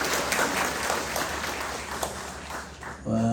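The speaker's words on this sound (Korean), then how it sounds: "우리 박수 한번 쳐주세요." Congregation at a Catholic Saturday prayer meeting in Cheongna church applauding young elementary schoolers, a dense steady crowd clapping heard moderately near, ending abruptly just after three seconds.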